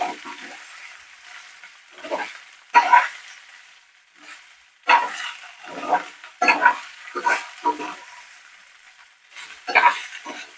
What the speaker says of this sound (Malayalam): കുറച്ച് ഇളക്കി കൊടുക്കാം